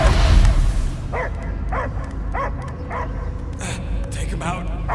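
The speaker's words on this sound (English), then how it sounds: "I hear only barking." A dog barks repeatedly in the Guardians of the Galaxy video game, five or six evenly spaced, close barks over a heavy low rumble of game ambience.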